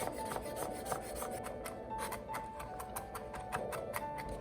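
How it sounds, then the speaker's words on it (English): A knife chops garlic on a cutting board in a quick run of close, crisp taps, steady and fairly quiet, with soft background music humming underneath and no talking. "I'm gonna chop up some garlic."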